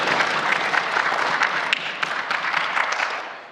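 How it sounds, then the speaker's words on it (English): A legislative assembly chamber applauds its interpreters with a steady, fairly close round of clapping from many hands that gradually tapers off at the end. "I think we need to give them a big round of applause."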